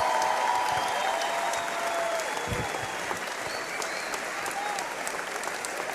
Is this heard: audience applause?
yes